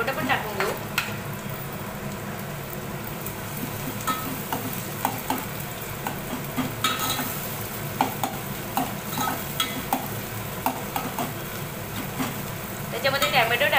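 Chopped tomato is stirred into chicken liver frying in a pan, giving a steady close sizzle with scraping spoon strokes against the metal, while a voice talks over the cooking.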